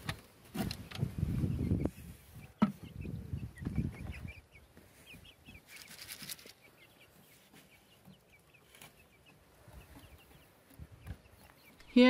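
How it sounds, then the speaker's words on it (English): Black Silkie chicks clucking in a small backyard shelter, soft peeping and chirps scattered through, with heavier rustling and knocks in the first few seconds before the calls continue quietly alone. "The two chicks live here on the other side of the mini shelter."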